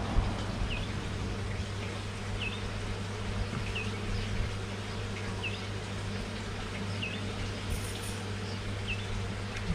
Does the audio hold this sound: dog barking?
no